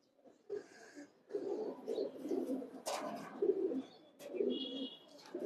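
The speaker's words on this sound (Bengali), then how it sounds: "আরেকটা কবুতর দেখেন মাসাল্লাহ" Pigeons kept for racing and tournament flying coo in a house loft, a series of soft, close, low burbling coos in short phrases with brief chirpy sounds between them.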